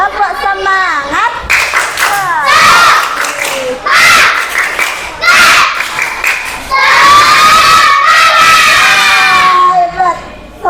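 A group of schoolchildren in a classroom performs a rhythmic spirit clap with loud, shouted chanting, the crowd of young voices cheering in bursts that fill the room from start to finish.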